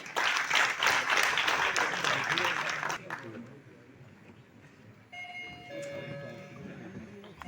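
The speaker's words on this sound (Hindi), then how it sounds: "तालियां हो जाएं।" An audience applauding at an Aam Aadmi Party press conference in Tagore Hall, Srinagar: dense, close clapping for about three seconds that stops abruptly, leaving quieter room noise and a brief tonal chime.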